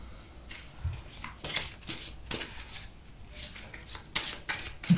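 Horoscope cards made of thin, floppy stock are shuffled by hand in quick, uneven bursts of papery riffling and rubbing, with short pauses between handfuls, close and fairly quiet.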